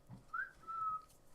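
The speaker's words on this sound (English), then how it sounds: "Give a little whistle." A person whistles a short rising then steady tune, a clear thin tone heard alone and fairly faint.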